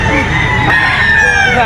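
Gamefowl rooster crowing at a seller's yard in Grotto, Bulacan, a loud, close, drawn-out cock-a-doodle-doo filling the whole moment.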